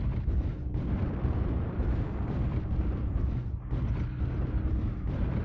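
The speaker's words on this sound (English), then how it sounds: "Call artillery on him." Artillery strike explosions in MechWarrior Online, a heavy continuous rumbling barrage of blasts and booms, loud and dense throughout with no clear gaps.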